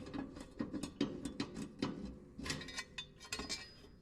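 Long bolt on a Toro TimeCutter zero-turn mower blade being turned counterclockwise, giving a run of quick metallic ratcheting clicks and clinks in steady bursts, close and fairly quiet, with no talking.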